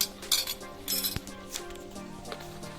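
Cooked chickpeas and ground coconut are mixed into kootu curry in a pot, with a few metal spoon clinks and scrapes against the vessel over a quiet background.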